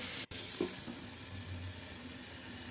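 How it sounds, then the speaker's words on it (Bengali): Eggplant slices coated in turmeric and salt deep-fry in oil, giving a steady broad sizzling hiss with one brief dropout near the start, close and fairly loud. "সামান্য হলুদের গুঁড়া, লবণ মাখিয়ে ডুবো তেলে ভেজে নিলেই রেডি বেগুন ভাজা।"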